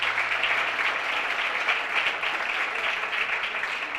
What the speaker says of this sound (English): Give all of our elected officials a big round of applause.